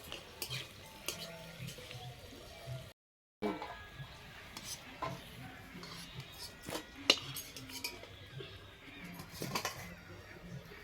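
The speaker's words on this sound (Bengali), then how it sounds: "কড়াই চাপিয়ে দিলাম, গরমে গেছে, দিয়ে দেবো সর্ষের তেল, শুকনো লঙ্কা। শুকনো লঙ্কাগুলো ভেজে নেবো।" Dried red chillies frying in mustard oil in a hot wok, a faint crackling sizzle with scraping stirs and small clinks of a utensil, briefly cut to silence.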